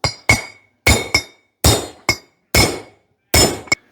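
A hammer strikes a big old bolt with a concave end used as a punch, producing nine sharp, ringing metallic clinks in loose pairs, loud and close with no talk.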